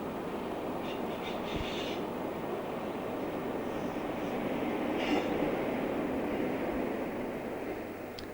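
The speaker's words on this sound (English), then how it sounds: "Slowly crossing the viaduct to the south of the station is the 1210 cross-country service from Bristol Templemeads to Newcastle" A diesel-hauled cross-country passenger train, the Bristol Temple Meads to Newcastle service, crosses a viaduct slowly, giving a steady broad rumble of wheels and engine that swells slightly midway and eases at the end, with no talk.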